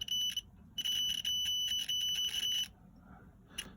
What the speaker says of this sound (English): immediately you get the sound for the continuity